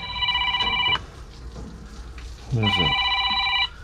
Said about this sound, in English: the phone's got a ring.